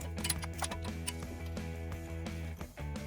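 A torque wrench clicks repeatedly while bolts are tightened to 80 foot-pounds during brake work on a Honda Odyssey, a quick run of sharp ticks up close over a steady background hum.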